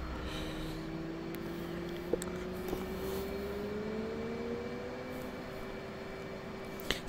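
Jet engine afterburner in a carrier-based flight sim, a steady faint roar with a slowly rising whine held continuously, a couple of small clicks over it.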